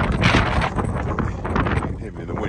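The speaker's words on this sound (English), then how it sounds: "You can hear me in the wind" Wind buffets the microphone on an exposed Cornish coast path beside a stone circle near Zennor, loud gusty rumble rising and falling, with a voice talking over it.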